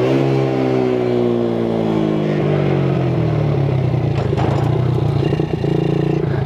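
A Chinese quad bike engine droning steadily in third gear at low speed, loud and close throughout, its pitch sliding gradually as it runs, with some rattling clatter mixed in.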